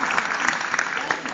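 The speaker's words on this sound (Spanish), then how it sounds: "Le damos un aplauso." Audience applause after a guest's song performance at a musical tribute, a dense steady patter of many hands clapping together throughout, fairly loud and close.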